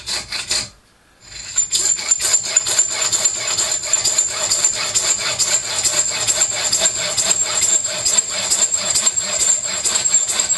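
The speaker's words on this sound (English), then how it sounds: "I need a slot in each end to hold the ward and handle. I shall just do this using a hacksaw." A hacksaw cuts slots into a brass key shaft with rapid, steady back-and-forth rasping strokes, loud and close, after a brief pause near the start.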